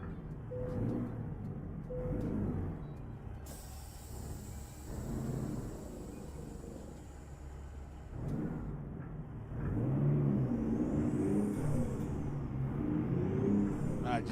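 Truck engine idling and revving in American Truck Simulator, a low diesel rumble swelling in several repeated rev surges and then holding a louder sustained drone, with brief hiss and whine sounds over it.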